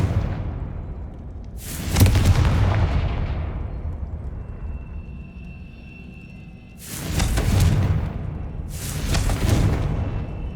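Confringo spell explosions in the video game Hogwarts Legacy: three loud booming blasts, one and then a pair later, each with a sharp onset and a long rumbling decay, with no talk.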